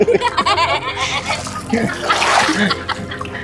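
Backwater water sloshes and splashes around a small boat at Sambranikodi island on a Kerala lake. The splashing is close and uneven, with voices and a bit of laughter mixed in.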